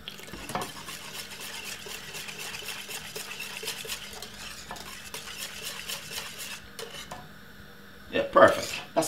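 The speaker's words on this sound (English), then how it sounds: "if I add a little bit more milk, give it a stir" Milk being stirred into plantain porridge in a pot, a steady spoon-scraping swirl running close and continuous, ending in a few louder clinks against the pot.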